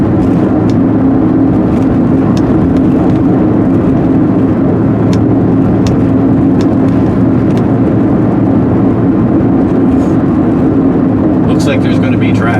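Loud, steady engine drone from an LS V8-swapped Porsche 944 pulling onto a highway, heard from inside the cabin with constant road rumble and wind noise throughout and a few faint clicks.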